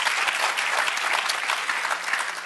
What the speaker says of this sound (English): please, a round of applause for all three of our panelists today